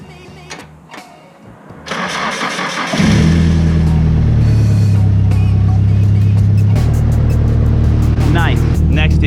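A truck with an exhaust leak cranks and catches at about three seconds, then settles into a loud, steady, close-up idle with some revving that runs to the end.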